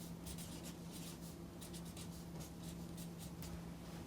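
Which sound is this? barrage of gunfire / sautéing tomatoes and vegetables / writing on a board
writing on a board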